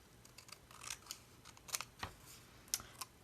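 Scissors snip a paper craft piece for a snack bag book page, a handful of quiet, crisp cuts in an uneven rhythm, close by and faint against a still room.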